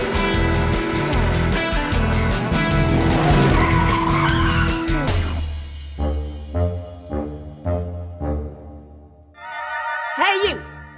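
Cartoon race cars roar loudly, then tires squeal through a series of skids with engine bursts in between, ending in a sharp high screech.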